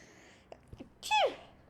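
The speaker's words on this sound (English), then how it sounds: "What a cutesy little sneeze" A single quick, high-pitched sneeze, close and fairly loud, preceded by a few soft breathy sounds and clicks.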